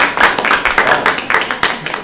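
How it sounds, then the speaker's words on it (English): A small group at a town select board meeting claps for the town administrator, a brief burst of distinct, close hand claps with an uneven rhythm, few enough that individual claps stand out. "Can we do a round of applause?"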